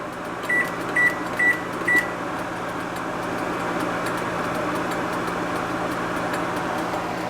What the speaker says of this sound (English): Okay, there I got my 4-hour timer.